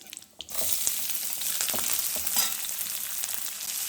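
Onions, medium-sized and cut, sautéing in oil, bursting into a loud, close sizzle after a brief quiet start, then crackling steadily with small pops and stirring.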